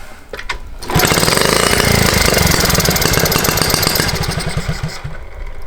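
A Honda T50 motorcycle, not run for about ten years, starts up after a second of quiet. Its small engine then idles loudly and close by in a rapid, uneven putter that keeps on steadily, with no talk.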